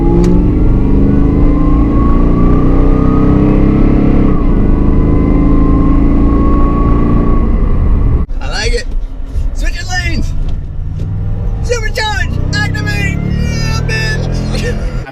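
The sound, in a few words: Toyota Tundra Magnuson supercharger whine while accelerating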